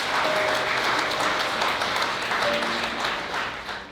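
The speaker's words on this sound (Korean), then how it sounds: "여러분들 아낌없는 경례 박수 부탁드리겠습니다" Wedding guests applaud just after the couple are declared married, a dense, steady burst of clapping from a full hall that holds loud throughout and eases slightly at the end.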